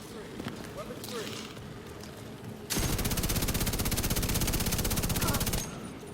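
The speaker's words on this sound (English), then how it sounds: "I'm just gonna snipe him back with my LMG." An LMG in The Division 2 fires one long, steady, rapid automatic burst, loud and close, after a stretch of quieter background game noise, then stops abruptly.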